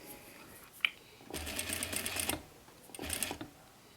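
A sewing machine stitches the last seam of a small boxed tote bag, with two short runs of whirring separated by a pause and a faint click before the first run.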